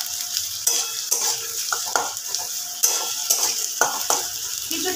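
Chopped onion sizzles and fries in oil for a mutton keema curry, with steady crackle and repeated spoon stirring and scraping against the pan, close and loud, with no talk.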